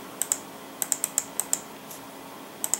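Computer keyboard keys are struck in short clusters of two or three sharp, close clicks with pauses between them, over a quiet room hum and with no talk.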